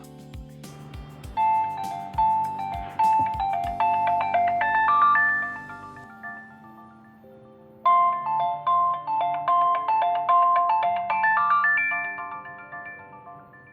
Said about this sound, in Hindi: अचानक मेरा फोन बज उठा।